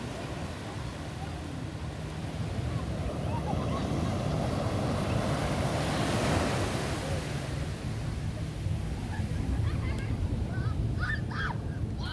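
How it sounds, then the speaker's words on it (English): Sea waves wash up and break on Playa de la Fanabe beach in Tenerife, a steady broad rush of surf with a swell in the middle, heard up close amid wind and distant beach noise. "Sea's coming in, will it get me?"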